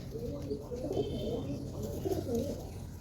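Domestic pigeons, including a female country pigeon, cooing steadily in a small zoo enclosure near nestlings, a continuous low murmuring coo close by with no talk.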